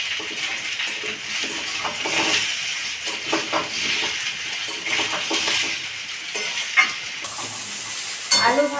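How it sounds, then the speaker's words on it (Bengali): Potatoes and onions fry in a pan with a continuous hiss and sizzle, broken by occasional scraping stirs, close and steady throughout. "এবার আলু দিয়ে আমি ভেজে নেব"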